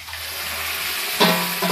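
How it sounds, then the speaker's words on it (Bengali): Curry being poured into a pan of egg and chopped tomato, a soft wet pour and low simmering hiss ending in a brief splashy sizzle as the liquid lands. "দেওয়ার পরে এই যে তরকাটা ঢেলে দিলাম"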